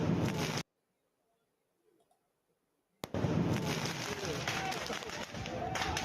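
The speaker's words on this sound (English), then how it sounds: "Well, at least it's only fireworks" Fireworks go off outdoors in California amid a crowd, loud crackling bursts and pops around a long silent gap, with people's voices mixed in.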